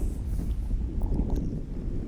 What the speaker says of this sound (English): The wind was starting to pick up.